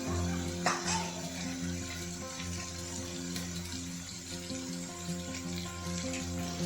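Ground masala paste and dry spices such as coriander, turmeric and red chili powder fry in oil for dhaba-style shev bhaji, giving a steady, close sizzle throughout with no talking.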